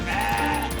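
A goat in the CrossCode video game lets out one short, close, nasal bleat that lasts under a second.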